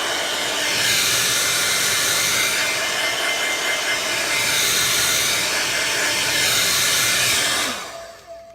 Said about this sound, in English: I'm going to take my blow dryer now and put it on a cool setting